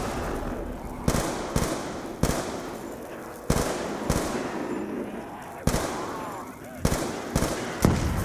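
Rapid bursts of assault rifle fire from the Black Ops 2 video game, a run of about eleven sharp, loud shots fired in uneven clusters over a busy in-game background.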